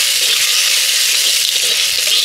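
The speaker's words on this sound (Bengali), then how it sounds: "এবার আমি ফোড়নের উপর আদা রসুন বাটাটা দিয়ে দিচ্ছি।" Ginger-garlic paste hits hot oil already tempered with whole garam masala, cumin and bay leaves, giving a loud, steady, close sizzle with a crackling hiss that carries on unbroken throughout.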